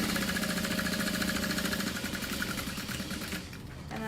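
A domestic sewing machine running steadily while stitching a handbag, a fast, even mechanical whir and rattle that holds for several seconds, then slows and fades out near the end.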